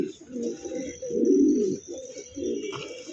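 A racing homing pigeon gives low, throaty coos in a few rolling bursts, close and fairly clear.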